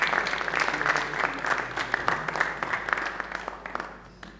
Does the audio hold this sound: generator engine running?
no